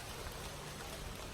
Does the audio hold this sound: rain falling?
yes